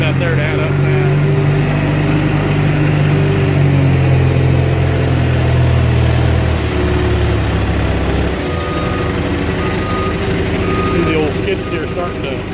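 A skid steer's diesel engine labours steadily and loud while hauling heavy sycamore logs, a constant low rumble with a slight dip in load toward the end.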